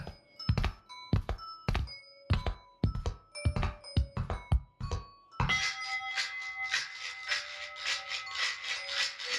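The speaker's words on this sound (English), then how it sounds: "Stepped on a toy." Stepping on a toy in the video game Pitch Black: A Dusklight Story: a series of hollow thunks with bright chimed tones, then a sustained jangling, ringing flurry that fades slowly, all played clearly with no talk.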